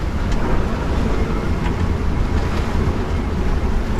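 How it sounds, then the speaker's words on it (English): Rough sea and strong wind around a sailing boat off New Zealand, a loud continuous roar of wind buffeting the microphone over churning waves, with no voices. "You can hear the sea"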